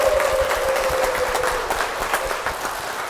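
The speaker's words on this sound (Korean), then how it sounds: "이민정 집사님 박수로 모시겠습니다" Church congregation applauding at a Cheongpyeong church service, a steady dense wash of clapping with a faint tone running underneath early on.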